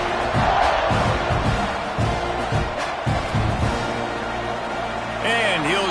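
Fans roar in a Texas A&M vs Arkansas college football stadium as an extra point follows a touchdown drive, a broad, distant crowd wash under an announcer's commentary.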